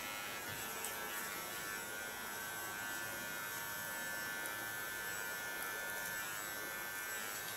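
A small electric hair clipper buzzes in a constant, even drone during a nape shave, with a steady hum and no talk over it.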